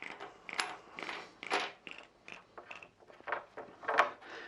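A sprayer pump's suction tube and foot valve are unscrewed by hand, making a steady run of small plastic clicks, ratcheting twists and rattles, close and fairly quiet.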